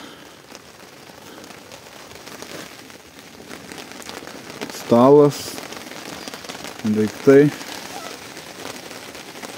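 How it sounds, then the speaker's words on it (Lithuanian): Steady rain patters on a tent pitched without its inner layer by a riverside fishing camp, a constant hiss and crackle throughout, with someone talking briefly over it. "O, pradėjo lyti."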